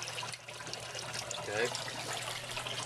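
Water gushes and trickles steadily out of the emergency drain of an aquarium algae scrubber, a close, continuous flow with a person speaking briefly over it.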